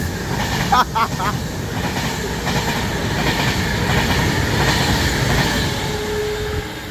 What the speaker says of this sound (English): That was 390 153 passing by off to London Euston with a very sharp tone as it came through.